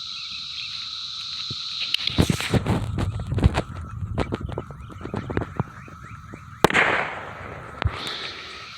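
A First American Fireworks 2nd gen M80 goes off outdoors: a burst of crackling pops is followed by a single sharp, loud bang, over a constant background of high chirping insects or frogs.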